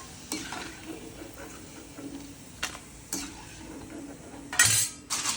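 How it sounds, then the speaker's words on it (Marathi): Potato wafers frying in hot oil, a low steady sizzle broken by a few sharp utensil clinks and scrapes against the pan, one louder clatter near the end, close with no talking. "बघा आता असे थोडेफार मी तळून घेणार आहे"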